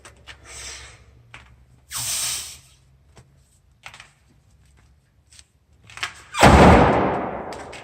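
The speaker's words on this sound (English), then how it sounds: "a complete stone load would look something like this" An Atlas stone is lifted and loaded during strongman training, with scuffs and soft thuds of handling building to a loud, heavy impact as the stone lands, close by.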